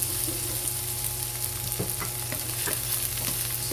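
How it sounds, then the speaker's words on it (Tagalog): Onion and ginger fry in a pan for ginataang tilapia, a constant dense sizzle up close with irregular scraping knocks from a utensil stirring through, no speech over it. "So ayan po, hahaluin lang natin."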